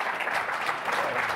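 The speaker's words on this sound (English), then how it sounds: "Give them a round of applause, please." Conference audience applauding panelists at MicroStrategy World 2024, a dense steady wash of clapping from many hands throughout.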